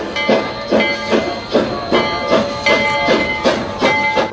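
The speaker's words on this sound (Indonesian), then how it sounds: "Yang ini kereta api." Toy train running with a rhythmic clickety-clack of repeated wheel beats and a steady hiss, close and loud, with no talking.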